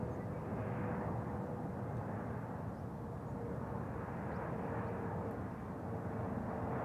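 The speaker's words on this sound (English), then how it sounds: "Qatar cargo, flight 8203, 777 freighter" A Qatar Cargo Boeing 777 freighter at Amsterdam Schiphol Airport produces a steady, distant jet engine rumble that holds evenly throughout, fairly faint and with no talking.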